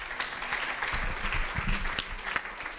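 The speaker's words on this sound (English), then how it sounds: "Nice round of applause for Mederik." A crowd at a Startup Weekend pitch event applauds after a pitch, a moderately loud spread of many hands clapping with a few sharper nearby claps.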